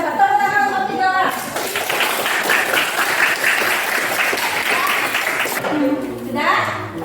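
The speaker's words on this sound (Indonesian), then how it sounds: "Tepuk tangan untuk 3 orang" Classroom applause for three winners, students clapping briskly in a dense burst that rises after a moment of voices and fades as talking returns near the end.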